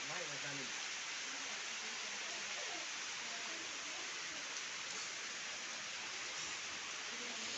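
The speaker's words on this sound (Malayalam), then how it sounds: "മഴ പെയ്ത് ആകപ്പാടെ നനഞ്ഞിരിക്കുകയാണ് മൊത്തത്തില്ല." Steady rain falls in a monsoon downpour, a dense, even hiss of drops that holds unchanged throughout, with a faint voice briefly audible at the start.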